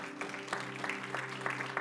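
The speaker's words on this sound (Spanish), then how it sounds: "Dale un aplauso fuerte al Señor." Church congregation applauding during a Spanish-language worship service, dense clapping running throughout under a sustained tone of music or an organ drone.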